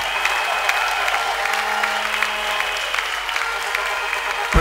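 Congregation clapping in a church, steady and fairly loud with a continuous droning tone running underneath and a sharp knock at the very end.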